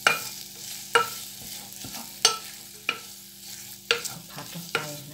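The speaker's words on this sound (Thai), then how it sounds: "ผัดให้ พริกแกงเข้ากับหมูเนี่ยนะคะ" Sliced pork stir-fried with Thai curry paste in a pan for a pork curry, a spatula scraping and tossing at a steady pace of roughly one sharp stroke per second over a low, constant sizzle. No one speaks.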